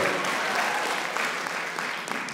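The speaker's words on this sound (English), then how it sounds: "Clap for that shit, because that is huge." Audience applause at a stand-up comedy special, a steady dense wash of clapping from a live crowd that holds for a couple of seconds and thins slightly at the end.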